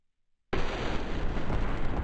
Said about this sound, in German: Die Dinger explodieren nochmal und teilen sich auf